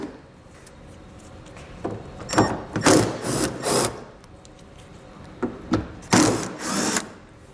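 A power driver with a T30 Torx bit backs fasteners out along the bottom edge of a 2018 Ram ProMaster City bumper, giving several loud whirring bursts of varying length separated by quieter gaps, close by.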